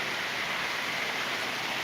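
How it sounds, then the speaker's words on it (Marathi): Steady rain hiss, even and continuous throughout, with no breaks or talk. "या ठिकाणी चांगल्यापैकी या ठिकाणी पाऊस पडत आहे"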